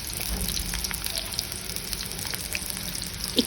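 Chopped onion sizzles in hot oil in a wok, a soft steady crackle and hiss with a few sharper pops, fairly quiet and close.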